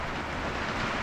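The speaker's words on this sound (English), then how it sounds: "And it's raining again." Steady rain falls outdoors as a dense, even hiss with no pauses, close and moderately loud throughout.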